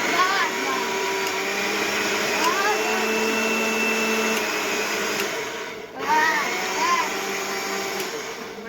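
An electric mixer grinder whirs steadily while blending a banana shake, a continuous motor drone with brief dips, as faint voices sound in the background.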